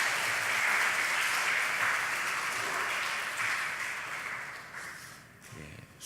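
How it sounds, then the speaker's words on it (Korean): A church congregation applauding one another during a night prayer meeting gives steady, moderate clapping that fades toward the end, heard at some distance. "우리 서로에게 박수 하실까요?"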